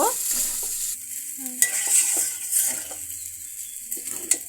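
Vegetable noodles fry gently on low heat, giving a soft background sizzle broken by stirring scrapes and a few light utensil clinks, close and without speech.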